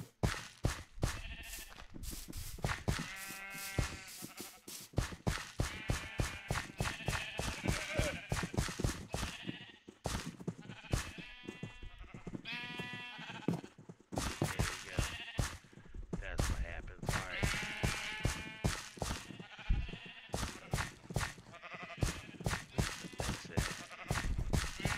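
Minecraft sheep bleats sound repeatedly throughout, mixed with a dense stream of rapid clicks and game noises and intermittent talking over the top.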